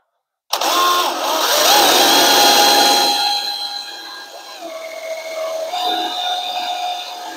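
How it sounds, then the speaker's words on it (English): A power drill spins up sharply and bores stop holes at crack ends in a Chevy Squarebody truck frame, a loud, whining motor tone that shifts pitch as the bit bites into the steel. "I'm going to drill a hole in it to make sure that it doesn't spread afterwards"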